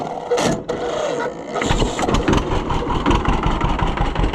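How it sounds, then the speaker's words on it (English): A choked two-cylinder engine cranks and catches, then settles into a steady, throbbing idle, close and fairly loud, with a faint earlier rattle before it starts. "you gotta choke a 2-cylinder every single time to get it to start"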